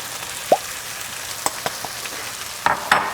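Sautéed vegetables in a pot with flour being added for a turkey pot pie, a soft low sizzle broken by a few sharp spoon taps and scrapes, with no voices.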